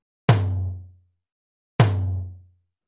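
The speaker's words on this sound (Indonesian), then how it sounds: "Kemudian ketuk tom kanan sebanyak 2 kali." Two deep, resonant hits on the right tom of a drum kit, spaced over a second apart, each ringing out with a low boomy decay.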